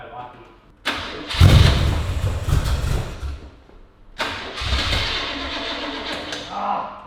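A Holden VK car engine cold-starts with no throttle in an enclosed shed with a fan running: a loud crank and catch, a surge, then a steady idle, a second start-up burst partway through, and engine noise throughout.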